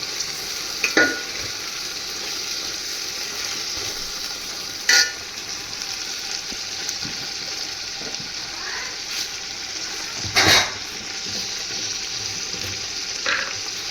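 Biryani vegetables and ingredients are stirred together in a pot over a low frying hiss, with a few sharp scraping strokes standing out at intervals and no talk.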